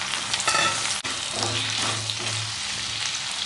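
Onions and tomatoes sautéing in a pan for a spicy Tamil kara chutney, a steady close sizzle and frying crackle with occasional stirring scrapes throughout, no talking.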